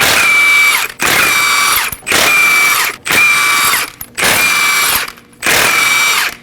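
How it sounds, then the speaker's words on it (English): A power impact tool loosens lug nuts with a 21mm socket on a 2017-2024 Nissan Armada 5.6L V8, six loud whirring bursts of about a second each with short gaps between, close by and with no talk. "Using a 21mm socket, we're going to go ahead and remove the lug nuts."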